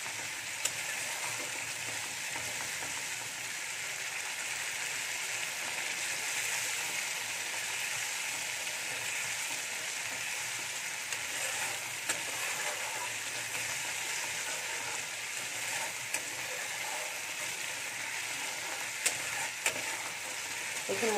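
Masala sautéing in oil until the oil separates, a continuous even hiss of frying that holds steady and fairly quiet, with a few faint clicks near the end.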